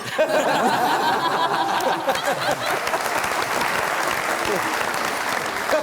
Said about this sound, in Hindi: बहुत तालियों से गूंज उठा।